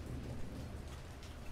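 Steady, heavy rainfall in the indie video game Blind Survivor, with a low rumbling undertone, a continuous wash of noise with no voices.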